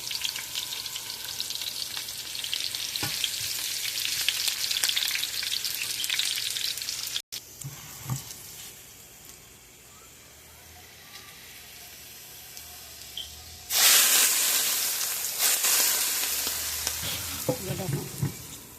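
Onion and garlic frying in oil, a steady hiss that softens midway, then surges into a loud, bright crackling sizzle near the end, with scattered stirring clinks and no speech.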